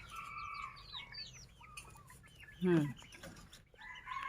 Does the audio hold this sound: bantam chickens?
yes